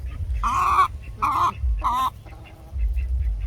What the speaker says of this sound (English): There's a few of you chickens out here.